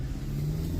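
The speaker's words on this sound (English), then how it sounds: "I'm just going to go ahead and just move the car right now" 2023 Kia Sportage pulling forward, a low, steady engine and road rumble, faint and close, brief with no talking over it.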